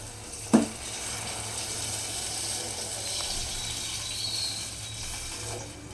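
Water pours steadily from a vessel into a pot for Maggi noodles, a continuous soft gushing after a brief knock at the start.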